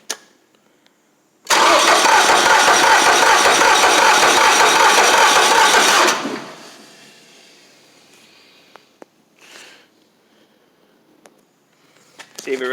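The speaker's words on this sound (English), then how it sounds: "Alright, let's see if it starts." A 2016 CH6720H engine on a small stump grinder starts up, roaring loudly and close for several seconds before cutting off. Quiet clicks and brief talk follow.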